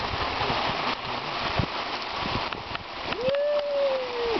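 Steady rain pours down outdoors during a carp fishing session, a dense, even hiss throughout, with occasional splashes and scattered voices and a short rising whine near the end.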